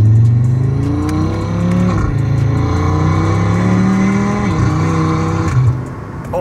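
A 640 hp Audi RS3 widebody accelerates hard, its engine note climbing steadily through the gears with brief dips at each shift, loud and close with no talking.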